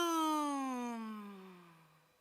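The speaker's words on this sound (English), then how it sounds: "Now, I want you to yawn, release the breath, and add a sound with your breath." A single voiced yawn slides smoothly downward in pitch as the breath is released, a sighing, moan-like tone that fades out over about two seconds, alone and close.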